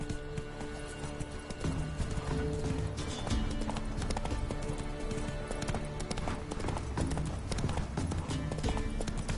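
Hooves of a galloping horse in the video game The Witcher 3: Wild Hunt, a fast continuous clip-clop, close and loud throughout, with no speech.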